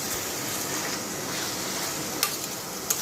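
Steady broadband sizzling and hissing of vegetables sautéing in a pan for pasta, with a couple of sharp clicks near the end.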